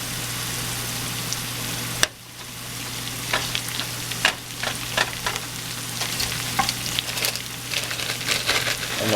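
Fish and vegetables frying in oil in a pan, a continuous sizzle with crackling pops and occasional stirring clatter, close and moderately loud.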